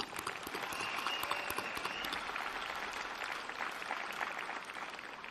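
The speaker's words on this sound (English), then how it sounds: "So give them a round of applause" Applause from a college commencement audience for graduates' families, a steady, fairly distant wash of many hands clapping throughout, without talk.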